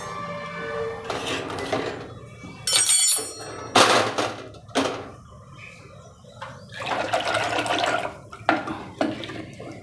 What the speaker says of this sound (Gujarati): થોડુંક આપણે પાણી નાખીશું